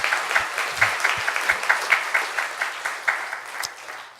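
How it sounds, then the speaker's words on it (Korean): A church congregation claps during a Sunday service, steady applause from many people with a few louder individual claps standing out, holding at an even level throughout. "다시 한번 박수 치면서"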